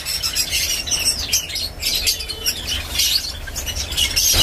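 Caged small birds, such as Java sparrows and budgerigars at a large bird shop in Joynagar, chirp and twitter in a dense, continuous, fairly loud chorus of high, overlapping calls.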